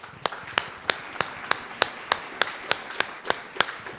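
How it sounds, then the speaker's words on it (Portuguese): Church congregation clapping in a steady, even rhythm, about thirteen crisp claps spaced roughly a third of a second apart, fairly close and clear against a quiet room. "Salva de palmas ao Senhor."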